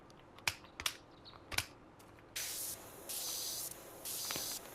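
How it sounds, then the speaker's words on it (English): Pressure washer spraying in PowerWash Simulator 2, heard as three sustained bursts of bright hissing spray with short gaps between them, preceded by a few sharp keyboard clicks in an otherwise quiet room. "And spray off what we can."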